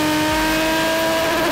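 A turbo diesel car engine on a Mercedes S123 with a welded exhaust holds a steady, loud, close rev with a strong hum throughout and no talking.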